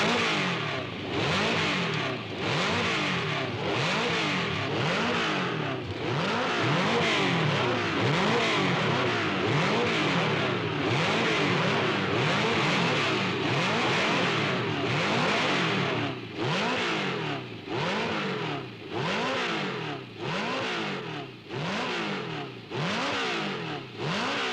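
A Lotus racing car with a short 3-litre aluminium V8 of 410 horsepower revs hard and loud, its pitch climbing and dropping again and again in repeated sweeps, with the rhythm quickening toward the end.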